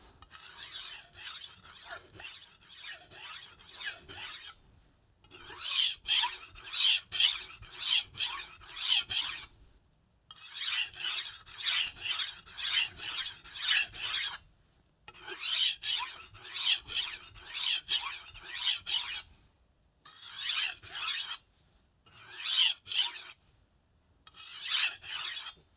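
A Global G-2 chef's knife rasps over Atoma diamond plates in bursts of rapid back-and-forth strokes, close and bright, with short pauses between sets.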